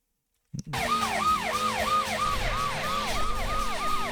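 Police car siren in the Driver 2 video game, a loud wailing tone cycling up and down repeatedly right after a brief thump, with an engine rumbling underneath.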